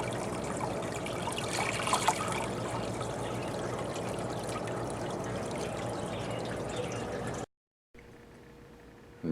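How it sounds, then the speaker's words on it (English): Water trickles steadily in a small 6' x 8' aquaponics greenhouse system, a close, continuous flowing wash that cuts out briefly near the end and returns quieter. "and I have really good water flow still."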